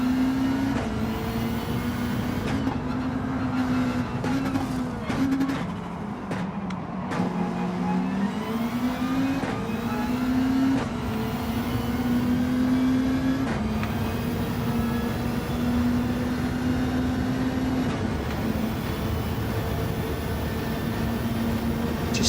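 Race car engine in Gran Turismo 7 during online lobby racing, a steady loud drone that rises and falls with shifting pitch as the car accelerates and shifts gears, continuous throughout.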